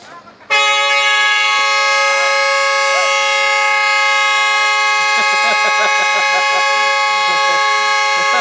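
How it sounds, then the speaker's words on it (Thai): A loud, sustained multi-tone vehicle horn blares continuously from close by, with faint voices underneath in the background. "ไม่ใช่เสียงช้างนะครับ เสียงแต่รถนะครับ"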